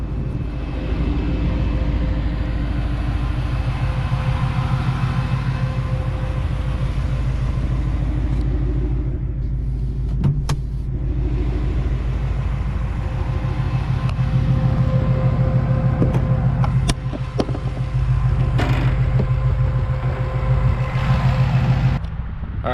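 Supercharged Ford Mustang GT500 with a VMP Odin supercharger, its engine running steadily: a deep, loud idle rumble with a throbbing low pulse, lasting throughout, plus a few faint clicks and shifts in the background and no speech.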